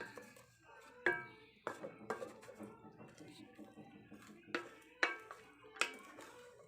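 Bean sprouts and pork stirred in a pan, a utensil knocking and scraping against metal in a series of distinct clinks at irregular intervals, fairly quiet and close.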